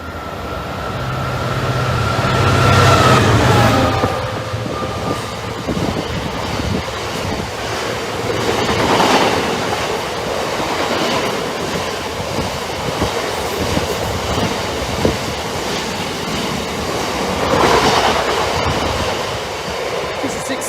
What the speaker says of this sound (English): a freight train delayed by 200 minutes running from Hope to Dagenham